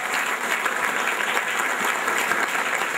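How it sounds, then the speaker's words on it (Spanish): A church congregation applauds a birthday during Catholic Mass, steady dense clapping from many hands filling the space for a few seconds with no voices on top. "vamos a darte un aplauso también"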